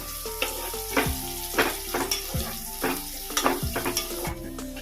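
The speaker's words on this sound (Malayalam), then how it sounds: "ഈ സവാള അരിഞ്ഞത് ചേർത്ത് കൊടുക്കാം" Chopped onion sizzles steadily in a hot pan, with repeated scraping stirs at a regular pace and no talking.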